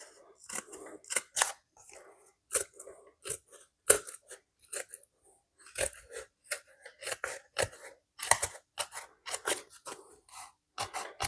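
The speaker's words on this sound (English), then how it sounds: "let me get some snips" Metal snips cut in a fast series of sharp, crisp snaps, close and fairly loud, in uneven bursts with short pauses between runs of cuts during customization work on a 1928 Ford Coupe.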